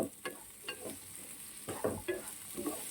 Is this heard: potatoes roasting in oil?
yes